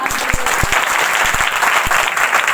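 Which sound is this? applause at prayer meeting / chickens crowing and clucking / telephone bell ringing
applause at prayer meeting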